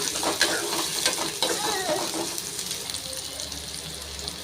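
Onion, green chilli and curry leaves fry in hot oil for a potato and green pea masala, with a steady sizzle and a few scraping stirs near the start.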